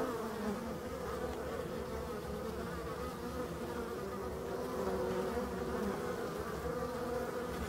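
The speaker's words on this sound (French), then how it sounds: "c'est l'abeille noire" Black honeybees (Apis mellifera mellifera) with some drones buzzing steadily around a prepared tree in a forest, a dense continuous hum of many wings close by, with no talking.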